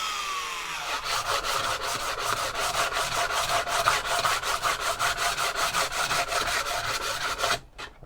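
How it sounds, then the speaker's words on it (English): A small triangular file rasps rapidly back and forth against a wooden walking stick in quick, regular strokes, close and fairly loud, then stops abruptly. "I am going to run a little triangular file in between those now"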